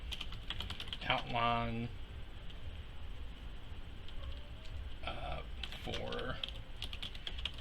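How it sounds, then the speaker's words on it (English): Typing on a computer keyboard in a blank Google Docs document, bursts of light key clicks with pauses, close and moderately quiet, while a person talks over parts of it. "we'll just type in"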